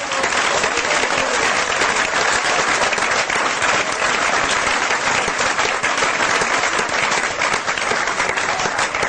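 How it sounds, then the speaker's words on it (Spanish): A church congregation claps steadily and loudly for several seconds, a dense continuous wash of applause filling the room. "Dele un aplauso al Señor"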